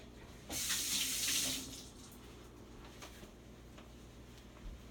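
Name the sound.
water running from a tap while washing hands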